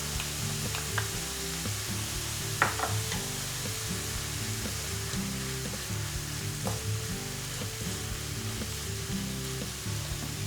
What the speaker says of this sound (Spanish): Ya están medio pochadas las verduras, así que ahora le incorporamos el tomate concentrado